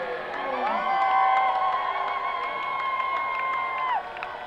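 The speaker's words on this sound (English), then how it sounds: "Let's give them a special round of applause" A crowd at a varsity high school football game between Braden River and North Port cheers and whoops, a sustained swell of voices that rises early, holds for several seconds and then tapers off near the end.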